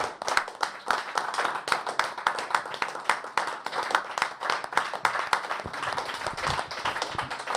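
Congregation at a French-language church service clapping in rapid, rhythmic unison, a steady burst of hand claps lasting throughout, close and fairly loud.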